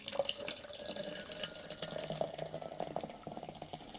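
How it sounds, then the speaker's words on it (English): A can of Red Bull energy drink is poured, giving a steady splashing, fizzing stream of liquid heard close up for several seconds, with no talking over it. "And you'll hear me pour it."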